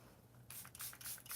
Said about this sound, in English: Setting spray and pretty much done.